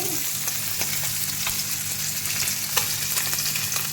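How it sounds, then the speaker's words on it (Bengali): Steady, continuous sizzling of fish frying slowly over low heat in a pan, moderately loud throughout, with faint crackles and occasional stirring clicks. "তো বন্ধুরা দেখছেন আমি আস্তে আস্তে ভাজছি।"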